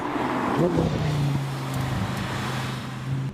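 An Audi R8 V10 Plus with a seven-speed S-Tronic dual-clutch gearbox drives along a road. Its engine drones steadily and close, with a quick shift in pitch early on as a gear changes.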